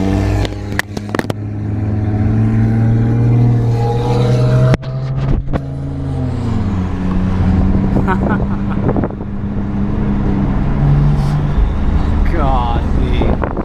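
A loud sports car engine accelerates on a street, heard from inside with deep droning revs, pops and burbles from the tuned exhaust, rising pitch sweeps as it pulls, and wind buffeting the microphone, with occasional voices.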